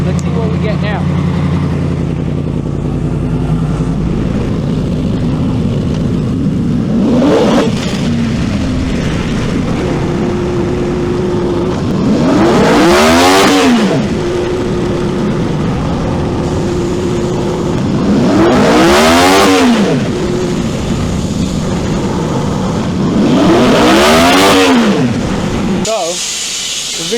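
A 2017 Yamaha FZ10 motorcycle runs on a dyno with a loud, close engine idling and then sweeping up through three hard full revs that climb and fall, under a steady mechanical drone.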